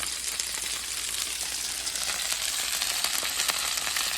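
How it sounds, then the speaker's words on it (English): Chicken wings topped with jalapenos sizzle on a grill at Ed's Garage and Grill, a steady, close, hissing crackle with no talk. "look at them jalapenos cooking in on them wings"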